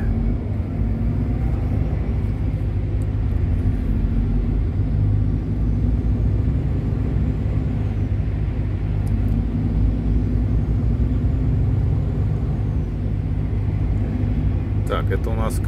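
A semi truck drives through the streets of Krasnoyarsk, a loud, steady engine and road rumble heard from inside the cab throughout, with brief clicks near the end.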